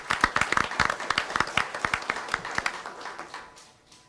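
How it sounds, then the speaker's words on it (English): Applause for an award recipient at a school board meeting: a modest crowd claps in a steady patter of sharp, distinct hand claps that gradually thins and fades out. "Give him a round of applause."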